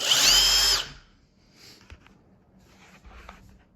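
Milwaukee M18 Fuel impact driver spinning in its speed-sensing mode, a loud high motor whine lasting under a second that stops sharply, followed by faint handling clicks and rustle.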